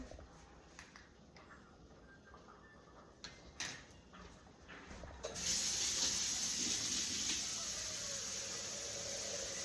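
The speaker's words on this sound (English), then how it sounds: "I'm gonna get some hot water." After a few quiet clicks and knocks, a tap opens and hot water runs in a steady, loud stream for the rest of the moment, close by in a kitchen during bread making.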